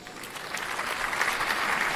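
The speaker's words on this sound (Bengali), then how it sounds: "সবাই হাততালি দাও।" People clap together at a child's first birthday celebration, a short burst of clapping that swells in loudness over two seconds.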